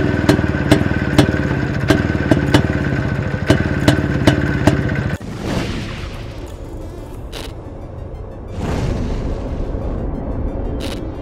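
A Yezdi two-stroke motorcycle engine runs with a fast, steady mechanical clatter and sharp regular pops, then abruptly drops to a quieter, rougher idle with a few louder bursts, close and alone.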